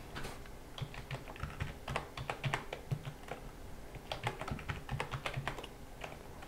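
Rapid keystrokes on a computer keyboard as a password is entered while setting up Windows 8 on a new PC, two close bursts of clicking with a brief pause between them.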